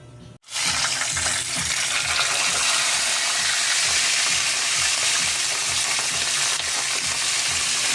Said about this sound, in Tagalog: Tatalsikan yung mantika.